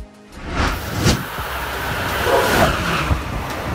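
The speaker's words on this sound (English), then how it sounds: "Transit train." A transit train running on an urban rail line, a steady broadband rumble and rush that swells soon after the start and holds at a fairly even level, with faint metallic clatter mixed in.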